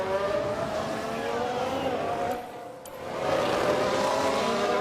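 Formula 1 race cars on track in F1 Manager 22, a Red Bull among them, roar steadily with high engine whine throughout, dipping briefly mid-way before the engine noise swells back at full loudness.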